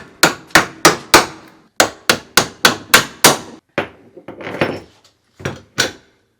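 A toy Black & Decker Play School hammer strikes in a workshop, a run of about nine sharp, evenly spaced knocks, then a short pause and a few scattered, lighter taps, close and loud with no voices.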